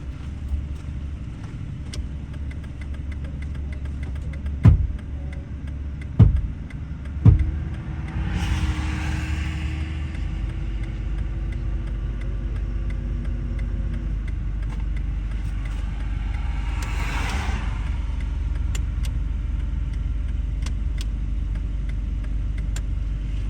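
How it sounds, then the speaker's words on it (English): A car passes by outside, a soft rushing swell that rises and fades over a few seconds. A second, fainter pass follows later, over a steady low hum with a few dull thumps earlier on. "for this car to pass"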